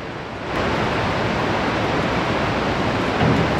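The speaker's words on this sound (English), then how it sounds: "Hey, do you hear that noise? Yeah, sounds like a waterfall." Steady, dense roar of rushing water from Montmorency Falls in Quebec, loud and continuous with no voices.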